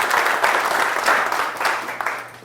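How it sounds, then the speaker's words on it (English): Audience applause at a party event following a presentation, a sustained wash of clapping from a room of people that swells in waves and tapers slightly at the end. "Let's give another round of applause to Anton and Dr. Johnson"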